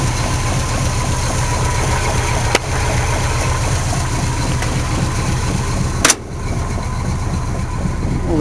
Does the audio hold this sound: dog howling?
no